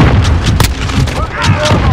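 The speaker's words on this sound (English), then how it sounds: "Grenade out." A grenade going off in a Domination match of a first-person shooter, a couple of heavy booms among gunfire and battle noise, loud and close, with a voice speaking over the action.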